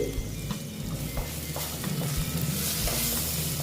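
Okra mixed with gram flour is stirred in a hot pan, a dense close frying hiss broken by irregular spatula clicks and scrapes, no voices.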